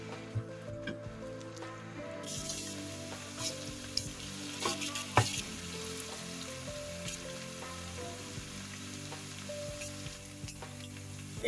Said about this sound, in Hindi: एक आधा मिनट इसको मैंने फ्राई किया है